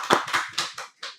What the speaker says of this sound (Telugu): బస్ చప్పట్లు.